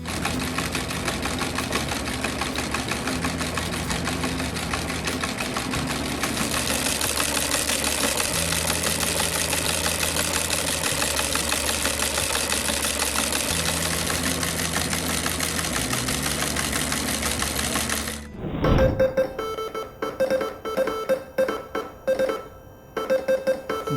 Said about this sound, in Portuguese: Então esse é o telégrafo espanholete.